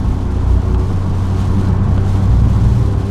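A Nissan 370Z Nismo cruises along on the road, its engine and road noise forming a steady low droning hum inside the cabin, even and unbroken.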